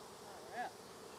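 Honey bees from a colony being split drone steadily around the opened hive, a soft continuous hum with one brief louder bee passing close by.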